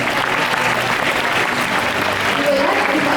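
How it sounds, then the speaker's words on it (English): An audience applauds new student councillors at a student leaders' investiture ceremony, a dense, steady clapping that carries loud and unbroken for a few seconds. "Let's give them one more round of applause for their appointment."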